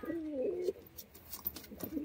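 A pair of red-crested pigeons coo nearby, with a drawn-out throaty call at the start and a softer coo at the end, mixed with faint rustling and clicks.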